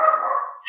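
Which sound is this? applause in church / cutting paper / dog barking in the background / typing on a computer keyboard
dog barking in the background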